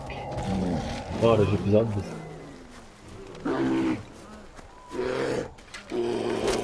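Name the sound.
bear roaring in the video game Far Cry Primal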